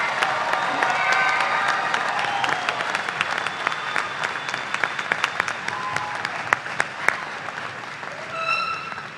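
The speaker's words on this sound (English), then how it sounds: "Please let's give our associate and baccalaureate students another round of applause." Commencement audience at a university ceremony gives sustained applause for associate and baccalaureate graduates, a broad wash of clapping with some cheering, fading slightly toward the end as an organ-like tone enters.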